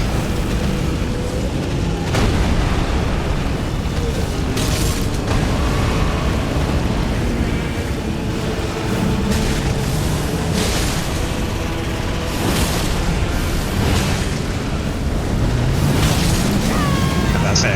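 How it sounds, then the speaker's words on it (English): Booming blasts in the Elden Ring video game, several dull explosions bursting out over a dense, rumbling battle soundscape with constant low noise and occasional sharper hits. "saw a little explosive thing get near me."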